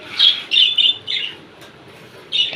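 Pet munia finches chirping in short high bursts, several quick calls in a row then a pause and another burst, fairly close and clear with no voices.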